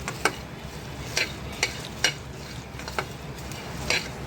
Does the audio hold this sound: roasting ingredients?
yes